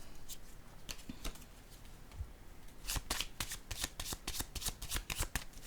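Playing cards are shuffled and a card is drawn during a card reading, with soft riffling and flicking bursts that grow denser and louder halfway through, close and alone with no talk.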